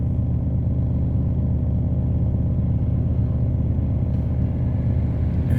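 Tata Altroz hatchback driving up, a steady low engine rumble and road noise holding even, with no voices.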